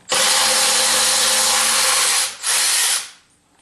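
A power tool runs loud and steady up close, driving bolts through bumper shims on a 1976 Corvette restomod, with a short dip before a second burst and then stopping.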